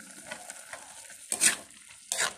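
A spoon stirs chili in a sizzling pan, with two louder scraping strokes over a steady frying hiss. The sound is close and fairly quiet.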